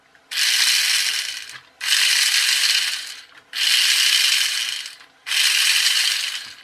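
A toy RC car's small steering motor whirs in four even bursts, each lasting about a second and a half, separated by brief silences, close and fairly loud.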